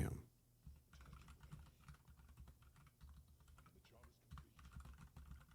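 Rapid clicking of keys on a computer keyboard, a run of light, irregular taps close to the microphone that continues steadily under a quiet background.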